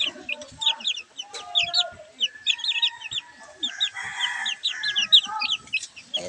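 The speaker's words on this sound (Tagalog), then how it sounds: "Ayan na mga sisiw natin." Texas chicks cheeping in rapid, high bursts inside a coop, with occasional lower clucks; fairly quiet and close, with brief faint talk at moments.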